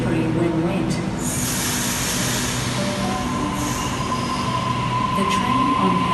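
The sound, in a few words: Sydney train at Town Hall station platform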